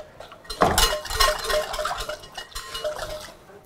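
A spoon clinks and scrapes against a bowl while thin, watery flour batter for vegetarian spring roll sheets is stirred, with irregular knocks and swishes close by.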